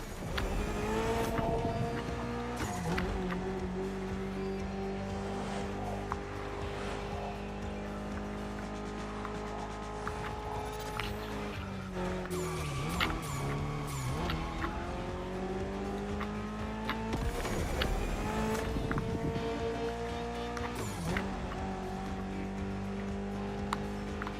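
A Mitsubishi with an inline four-cylinder engine, driven in The Crew Motorfest gymkhana racing, revs hard and steadily throughout, its pitch repeatedly climbing and dropping through gear changes, with brief tire squeals mixed in.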